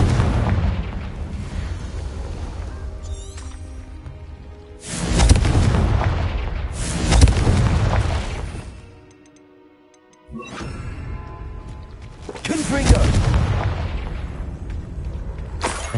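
Repeated heavy booming blasts from the Confringo spell in the Hogwarts Legacy video game, several loud explosions rolling over a dense, constant game soundtrack, with a brief quiet gap midway.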